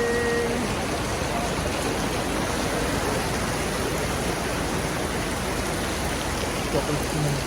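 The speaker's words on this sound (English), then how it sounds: "It's raining!" Heavy storm rain pours down steadily in Stalis, Crete, a dense continuous wash of drops close by with no break across the whole stretch.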